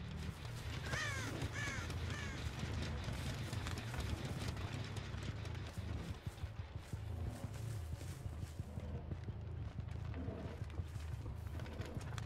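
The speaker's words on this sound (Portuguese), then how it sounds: "Escutei uns corvos, mas não sei aonde" Crows caw in the Dead by Daylight video game, a few harsh calls near the start over a dense, constant game ambience with low rumbling and scattered thuds.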